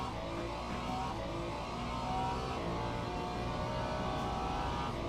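A race car engine drones steadily in the Le Mans Ultimate racing game against an Aston Martin rival, a faint, continuous mechanical hum with no clear revving peaks.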